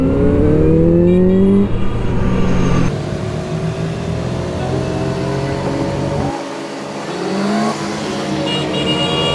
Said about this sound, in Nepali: इनलाइन 4 सिम्फनी यस्तो मिठो कानमा मजाको आवाज आइरहेछ